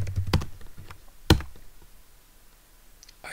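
Keys clicking on a computer keyboard as an SSH login command is typed, a quick burst of close taps followed by a sharper single keystroke, then near silence and a final soft click.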